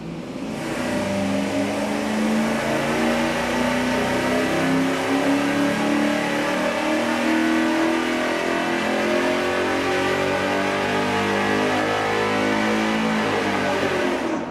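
An engine runs on a dyno through a single exhaust with a Y merge and a straight-through muffler. It roars loud and steady, its revs climbing under full load and holding for the whole stretch.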